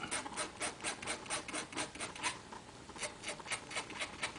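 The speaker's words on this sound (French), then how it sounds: "Petit coup de lime en dessous parce qu'il va y avoir un petit accroc." A hand file rasps against the underside of a small model railway switch part in steady, rhythmic back-and-forth strokes, close and moderately loud, with no talk.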